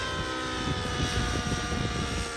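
A Tron 700 RC helicopter with a Nitron 90 nitro engine running rich, a loud continuous engine drone with an uneven burbling texture throughout and no voices.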